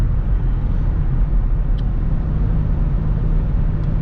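Pontiac Trans Sport van driving along the road, a steady low engine and road rumble from inside the cabin with no pauses.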